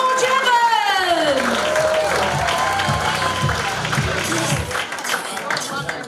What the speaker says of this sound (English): Put your hands together in a clapping motion.